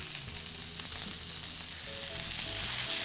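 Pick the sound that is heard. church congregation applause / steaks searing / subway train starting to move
steaks searing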